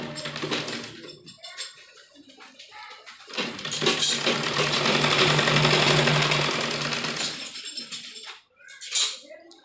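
Sewing machine stitching a waistband belt onto a churidar ladies' pajami, a loud close whirring run of rapid stitching with short stops and starts at either end.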